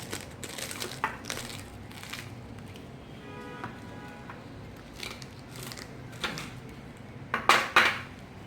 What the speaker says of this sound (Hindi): आपको मैं एक ये काट कर दिखा देती हूँ, ये देखें, उफ, बहुत ही ज़्यादा ही क्रिस्पी है।